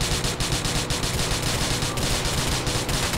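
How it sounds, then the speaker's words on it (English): Heavy, continuous gunfire with a rapid run of shots aimed at the tires of a fleeing car during a chase. The shots are loud and dense, forming a steady barrage that lasts the whole stretch with no voices. "We're going to have to shoot out his tires."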